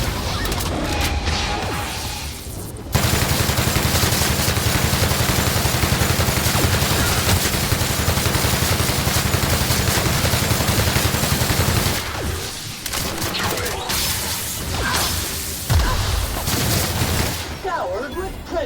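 Sustained, dense gunfire in The Outer Worlds erupts after a brief quieter opening and runs loud for most of the stretch, then gives way to scattered shots and impacts near the end.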